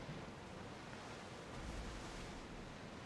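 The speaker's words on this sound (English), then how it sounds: "Big fucking waves out here for some reason." Big ocean waves at sea in the video game Assassin's Creed Odyssey, a continuous heavy wash of surf with wind noise, steady and loud, with no speech.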